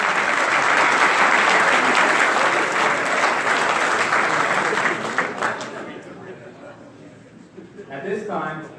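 A platoon at a class graduation ceremony gives sustained, loud group clapping. After about five seconds it fades into crowd murmur and voices.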